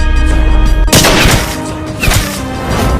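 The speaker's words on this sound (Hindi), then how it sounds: "वहां से गोली चली।" A single loud gunshot cracks nearby about a second in, followed by a noisy, rumbling aftermath and another softer impact.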